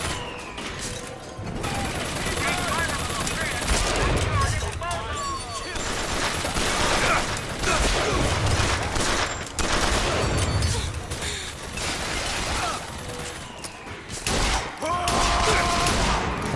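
Rapid bursts of automatic gunfire from a turret in Bioshock Infinite crackle loudly and repeatedly, mixed with game effects and brief pauses between volleys.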